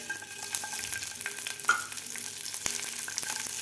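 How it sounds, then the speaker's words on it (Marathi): Garlic frying in oil in a pan for a Maharashtrian spicy potato thecha, a steady close sizzle with occasional scrapes and stirring knocks, one brighter clink midway. "आता सुरुवातीला आपल्याला हे लसूण भाजून घ्यायचं आहे"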